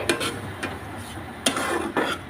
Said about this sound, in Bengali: এই যে চিনি অল্প করে চিনি দিয়ে দিচ্ছি ভালো করে নাড়িয়ে